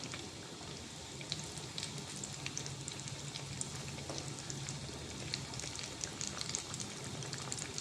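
Bread and potato snacks made with already-cooked potatoes shallow-fry in oil until light brown, giving a faint, continuous crackling sizzle that resembles light rain, with no talk.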